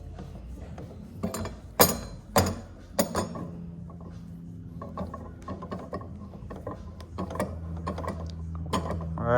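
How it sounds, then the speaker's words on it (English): Coilover spring preload collar on a Reaction Performance coilover being spun by hand, giving close, intermittent metallic ratcheting clicks and clinks, with a few sharper knocks early on and softer scraping turns afterward. "spin this up about 5 millimeters"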